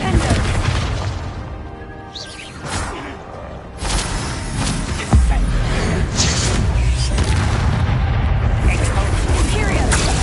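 Heavy booming spell blasts from Expulso in the Hogwarts Legacy video game, several deep explosive bursts with rumbling tails over game noise, loud and close.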